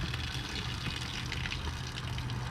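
Water gushes and splashes steadily off the ends of RV slide-out toppers as the slides retract during Hurricane Nicole, a continuous nearby rushing pour with a low mechanical hum underneath and no talking.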